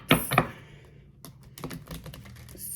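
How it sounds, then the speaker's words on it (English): A deck of cards shuffled up close, with a couple of sharp riffle bursts at the start followed by lighter scattered clicks and flutters, no talking. "Let me shuffle these up a little bit. Let me shuffle these bad boys."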